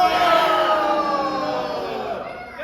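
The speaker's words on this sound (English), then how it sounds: "If he's cold, you'll boo." A school-play audience boos loudly in a drawn-out, sustained group jeer that slowly fades over a few seconds.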